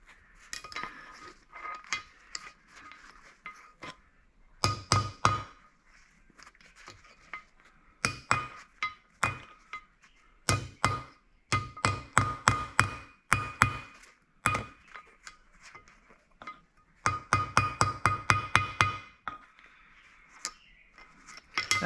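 Bursts of ringing metallic hammer blows on a hot vise part, a Columbian 603-1/2, held over the edge of an anvil, struck in quick rhythmic runs with short pauses between them.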